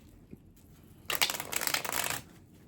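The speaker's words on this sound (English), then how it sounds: "one more shuffle, then we'll get started" Tarot cards being shuffled by hand, a dense riffling burst of crisp papery flutters lasting about a second, close and fairly loud against a quiet room.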